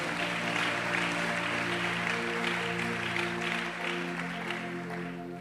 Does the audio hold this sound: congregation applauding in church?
yes